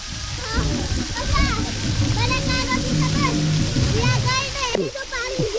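A fountain at a water park gushing and splashing in a loud steady roar, with children and adults talking and calling out over the water throughout.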